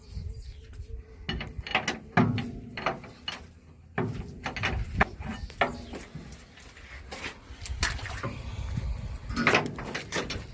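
Outdoors in a rain-soaked field, a ratchet tightens a tow line with a run of sharp clicking strokes, irregularly spaced and fairly close.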